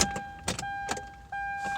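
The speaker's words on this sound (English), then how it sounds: "lower all these windows" Hyundai Santa Fe power windows being lowered, a steady electric motor whine with a few clunks and clicks as each window starts and stops, close and fairly quiet.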